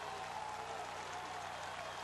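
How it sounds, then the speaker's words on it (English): A college football crowd at Paulson Stadium during a 1999 Georgia Southern home game against Illinois State, a distant, steady roar of cheering and applause with faint broadcast commentary underneath. "this crowd at Paulson Stadium on its feet, trying to cheer its defense on"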